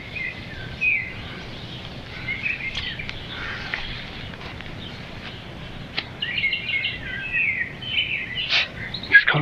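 Birds chirp and sing in a village garden in Bulgaria, a steady scatter of high tweets and short calls from several directions, some near and some farther off, over a quiet outdoor background.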